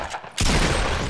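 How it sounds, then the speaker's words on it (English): Gunfire in an online squad shooter video game: a sudden loud burst of rapid shots that starts abruptly and keeps going as a dense, sustained fusillade. "Where's these shots coming from, dude?"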